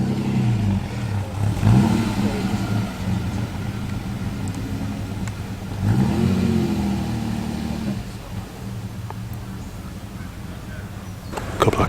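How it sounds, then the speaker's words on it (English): Classic Ford cars, including a Mark II Escort, roll into the Weston Park classic car show, their engines rising and revving in two passes over a steady outdoor background. "A couple of classic Fords coming in now."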